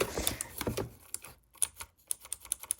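Keys clack on a Rampage Ally K11 computer keyboard, a loose run of quick, crisp taps close to the mic, bunched at first and then spaced apart, with no talking.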